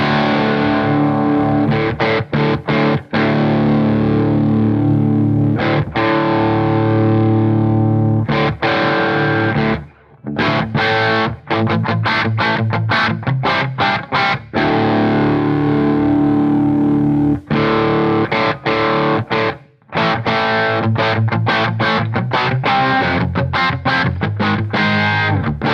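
Heavily distorted electric guitar through a Mesa Boogie Nomad 55 head on its modern channel, loud and close, chugging chords and riffs with short palm-muted stops and brief gaps.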